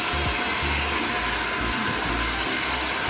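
A hair dryer blows steadily on wet hair after a hair spa wash, a loud, continuous close-up whoosh with no one talking.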